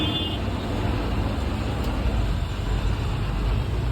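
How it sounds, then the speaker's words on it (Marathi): A bus rolling along the road, heard from inside as a loud, continuous low engine and road rumble that stays even throughout the four seconds, with no one speaking. "फायनली आता आमची बस चालू झालेली आहे"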